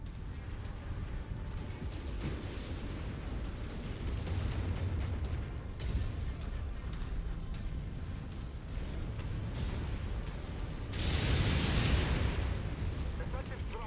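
Missile strike in a mech combat game, a heavy booming blast rolling through dense battle noise, with a larger swelling impact near the end and radio voices talking over it.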